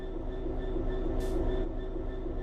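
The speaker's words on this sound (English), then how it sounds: "you're going to look at making the train move" A train in the video game Train Sim World 3 rumbling steadily along with a low engine drone and faint tonal whine, one brief hissing burst midway.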